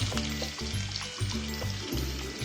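Curry leaves drop into hot oil and sizzle in a steady, close frying crackle, with a rhythmic stirring or scraping pulse underneath. No one talks.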